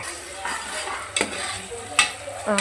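Tomato and green chilli fry in a pan while being stirred, a steady close sizzle broken by a few sharp scrapes and clinks of a utensil against the pan.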